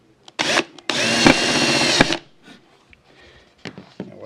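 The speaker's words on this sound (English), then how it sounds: "you can just drill it right down." A power drill drives a screw into a drywall anchor in two loud, close whirring bursts, followed by softer clicks and handling noises.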